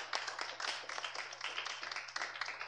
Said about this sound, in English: Let's give them, the whole media team, a round of applause.